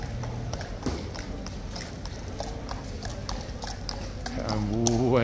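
A large King's Guard horse clip-clops in a steady run of hoofbeats on hard ground, close by, with a constant background bustle that rises toward the end.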